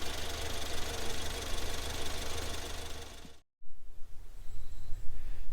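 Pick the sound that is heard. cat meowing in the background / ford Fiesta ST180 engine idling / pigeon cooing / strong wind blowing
ford Fiesta ST180 engine idling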